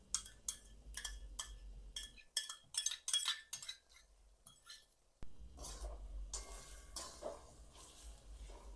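Green chilies and ginger garlic paste being stirred in a pan for chana pulav give a string of sharp metal clinks and scrapes of a spoon, then softer sizzling and stirring, fairly quiet and close.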